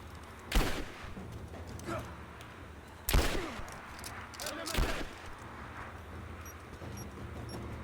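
Sniper gunfire in the video game Rise of the Tomb Raider: three loud, sharp shots spaced a couple of seconds apart, each with a short echoing tail, over low game ambience.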